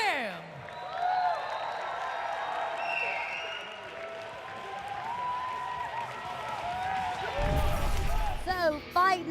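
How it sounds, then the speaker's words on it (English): Audience applause and cheering for the champion at a martial arts superfight event, a steady crowd roar of clapping with whoops, continuing under an announcer's voice and swelling near the end. "let's give another round of applause to Martial Combat Superfight champion Jong Kim."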